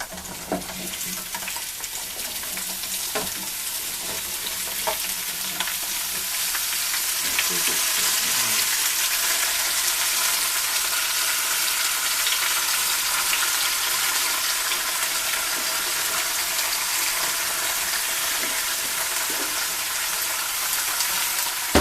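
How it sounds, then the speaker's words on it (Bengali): Mixed vegetables, including bell pepper, are stir-fried for a Chinese vegetable dish, giving a loud, continuous sizzle with scattered scraping and stirring clatter. "আমরা সব সবজি দিয়ে দিচ্ছি"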